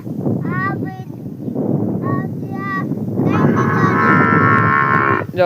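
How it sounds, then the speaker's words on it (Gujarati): A calf moos repeatedly outdoors, drawn-out bellowing calls close to the microphone, the last one long and loud, with a person's voice and wind noise around it. "વાસળી ભાંભરી"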